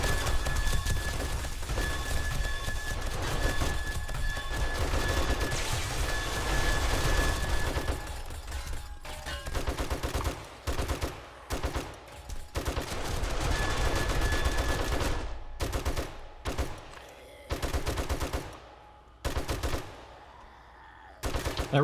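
Rapid automatic turret gunfire rattles in dense, loud bursts during a 7 Days to Die PC firefight, nearly continuous at first and then breaking into choppy volleys with short gaps.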